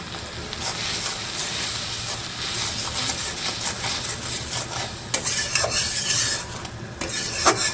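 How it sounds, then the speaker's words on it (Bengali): Ground salt, turmeric, coriander and chili powder being stirred and sautéed in a hot pan, with a steady close sizzle, scraping stir noises and a few sharper clinks of the spoon against the pan near the end. "মশলাগুলো কষে নিই"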